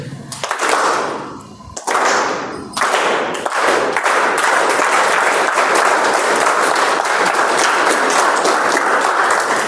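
Audience applause at a club meeting, a short burst that fades and restarts, then settles into sustained, loud, dense clapping from a room full of people.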